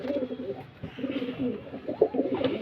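Pet pigeons in a Punjabi loft give low, rolling coos in a steady series, close and moderately loud, with a few sharper notes mixed in.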